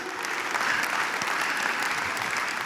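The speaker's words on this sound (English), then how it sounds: "You're clapping for a dad joke" An audience claps steadily after a joke during a talk on family expectations, a moderately loud, even patter of many hands that holds without breaks.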